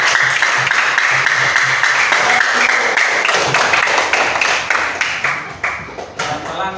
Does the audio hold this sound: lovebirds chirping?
no